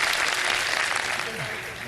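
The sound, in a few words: studio audience applause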